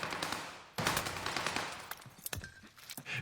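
Video game gunfire, with bursts of machine-gun shots and scattered single cracks over a few seconds, faint and fairly distant.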